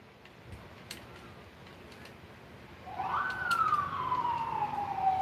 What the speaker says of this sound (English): And there goes the ambulance.